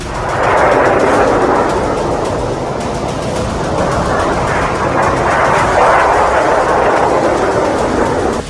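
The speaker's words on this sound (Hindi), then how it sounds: "ईरान की ओर से दागे गए कुछ क्लस्टर बम न्यूज 18 इंडिया के कैमरे में भी कैद हुए" Iranian cluster bombs exploding over Israel, a loud, continuous rumbling roar with a thick, sustained crackle and no separate distinct blasts, no speech.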